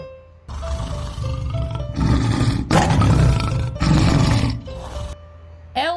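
A lion roars in repeated deep, rough bursts, loud and close, with a thin sustained tone running underneath between the calls.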